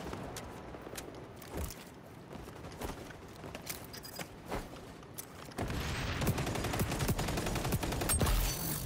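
ACR rifle fire in the video game XDefiant: scattered sharp shots crack out in the first half, then dense rapid bursts grow louder and busier over a rumbling background.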